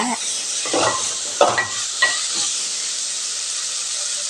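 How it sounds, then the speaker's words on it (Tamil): Chopped banana flower frying in oil in a pan, with a steady loud sizzle and hiss throughout and a few scraping stirs of a spoon near the start, close up and without talking. "இது ஒரு ரெண்டு நிமிஷம் நல்லா கலந்து விட்டுறலாங்க பாருங்கள் எல்லாம் நல்லா வதங்கி வந்துருச்சு எண்ணெயில்"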